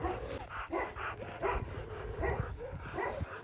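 Kangal dogs bark in a steady series of deep, repeated woofs, several dogs close by and loud over a rough outdoor background, with a few higher yips mixed in.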